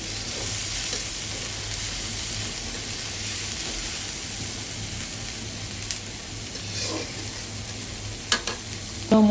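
Spice paste with turmeric and chili fries in a pan, a soft, steady sizzle heard close up, with a few sharp clacks of stirring near the end.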